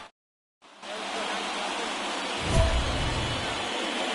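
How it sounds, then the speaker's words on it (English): Rain falls at a baseball game as a steady, loud hiss of pouring water that begins abruptly after a brief silence, with a deeper thump swelling briefly in the middle. "This rain is not letting up."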